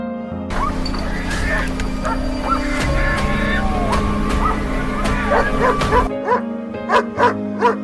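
Dogs bark and yip in a busy, overlapping chorus during a wild boar hunt in Texas farmland, some yelps whimpering, with a few sharp separate barks standing out clearly near the end.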